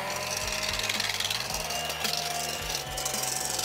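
An electric mixer whips egg whites for pancake batter, giving a steady motor whine with gritty scraping and rhythmic rattles against the bowl throughout, loud and close with no talking.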